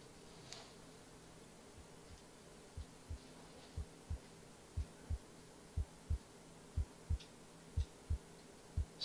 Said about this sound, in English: You can hear his heart beating and he's starting to come to.